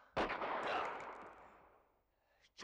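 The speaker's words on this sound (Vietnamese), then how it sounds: "Đây là phát súng vì Kỳ Mạn Linh." A single gunshot cracks out, a sharp loud report with a broad noisy tail that decays over about a second and a half, fairly close and alone.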